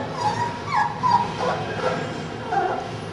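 Puppies whimper and yip in high, wavering cries against steady background noise, close and fairly loud, lasting a few seconds.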